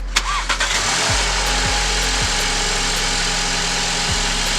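A Volkswagen Golf MK7 fitted with a Unitronic turbo elbow cranks with a few quick chugs, catches, and settles into a steady, close idle hum with a slight drop in pitch as revs fall.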